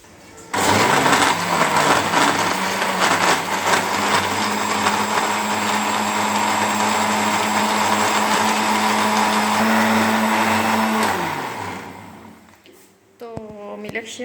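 A blender grinds an apple milkshake with ice and sugar, running loud and steady for about eleven seconds before winding down, after which a brief voice follows.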